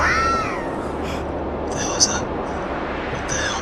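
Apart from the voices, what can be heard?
cat yowling in an old paranormal video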